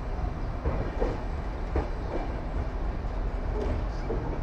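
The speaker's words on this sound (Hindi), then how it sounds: "अभी हम आसनसोल स्टेशन में इंटर होते हुए, ये इस ट्रेन का लास्ट स्टॉपेज" A passenger train rolls into Asansol station at its last stop, with a steady low rumble and periodic wheel clicks over rail joints, heard from inside the carriage.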